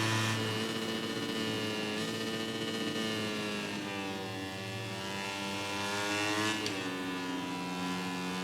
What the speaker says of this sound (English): You can probably hear really trying to use engine braking.